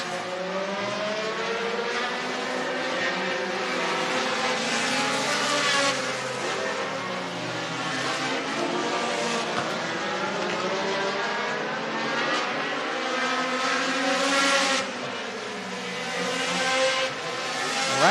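Race cars lapping the Ice Bowl track, several engines roaring and revving together in a continuous loud drone with rising and falling pitch as cars pass, no voices over it.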